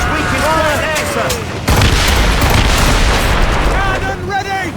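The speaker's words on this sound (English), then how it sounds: "Cannon ready! Fire!" Naval cannon fire from a sailing warship in the video game Assassin's Creed Rogue: loud, sustained booming barrages rumble continuously across the clip, with shouted voices layered over the gunfire.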